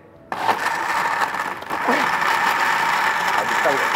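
An electric blender runs at a steady whirring pitch after starting abruptly near the beginning, the motor tone dipping briefly midway before settling back into a continuous, fairly loud drone.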